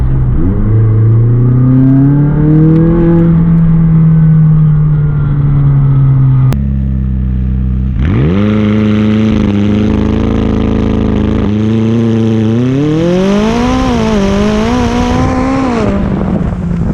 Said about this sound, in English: Let's give it some gas real quick.